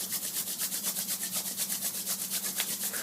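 Palms rub briskly together at the end of a yoga class, a close, steady swishing friction that repeats in a quick, even back-and-forth rhythm for several seconds.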